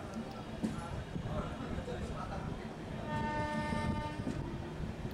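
A Pratham Swatantrata Sangram Express train runs between Kolkata and Naihati with a continuous rumble and rattle of wheels and carriages, heard from on board. A steady tone enters partway through, and there is a busy background of passengers.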